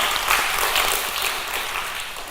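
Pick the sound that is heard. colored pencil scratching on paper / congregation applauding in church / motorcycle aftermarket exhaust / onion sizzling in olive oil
congregation applauding in church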